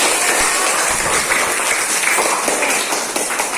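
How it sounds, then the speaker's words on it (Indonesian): A classroom of students claps for their groupmates after news-report presentations, a loud, dense, continuous patter of many hands filling the whole stretch. "Tepuk tangan sekalian."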